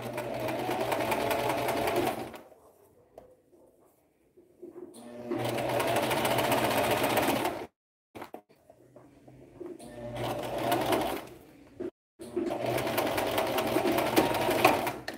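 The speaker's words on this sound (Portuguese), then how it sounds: "Pronto, então fiz a primeira costura do meu viés." A sewing machine stitches bias binding in several close, loud bursts of steady mechanical whirring, separated by short pauses, with faint bird cooing in the gaps.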